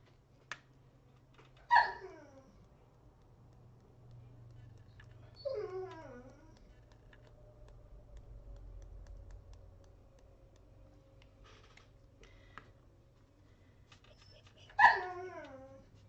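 A pet dog indoors giving a few whining, yelping barks and drawn-out whimpers spaced several seconds apart, fairly near, with quiet room noise between calls.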